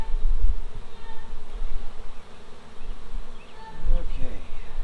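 Honeybees buzz loudly and continuously around an opened hive, a dense rising and falling drone close by with occasional soft handling knocks.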